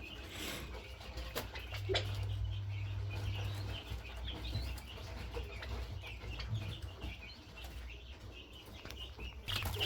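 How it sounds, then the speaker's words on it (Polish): Young chickens cluck and chirp softly while eating, amid a low rumbling background, with occasional flutters of wings; the birds sound close but fairly quiet. "Kurczaki wcinają, ładnie rosną."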